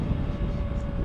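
A Lexmoto ZSB motorcycle engine revs high, near 7,000 rpm, while riding, giving a steady, loud droning hum with a constant tonal whine and rushing wind-like noise underneath.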